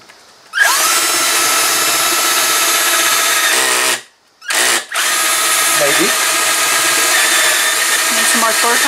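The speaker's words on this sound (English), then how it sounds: "now we're gonna drill that hole" A power drill bores a hole through a wooden board, a loud sustained whine that cuts out briefly midway, stutters, then resumes steadily to the end.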